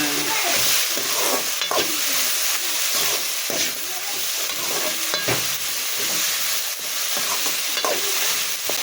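Ridge gourd is sautéed and stirred in a hot pan, giving a loud, continuous sizzle with repeated scraping strokes of the spoon, close up and without speech.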